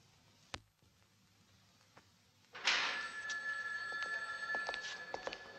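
A telephone in a director's office rings out loud and clear after a few faint clicks and knocks, its bell sustained for several seconds against a quiet room in a 1977 film scene.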